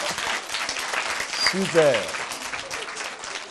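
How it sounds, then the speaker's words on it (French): A school audience claps loudly for the director of a private school during a children's television programme. The applause runs steadily throughout, with a voice briefly speaking over it. "On l'applaudit très très fort."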